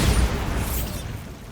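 Bombarda blasting spell detonating in Hogwarts Legacy, a loud, dense low boom that hits at once and rolls off into a rumbling, debris-filled decay over a second and a half.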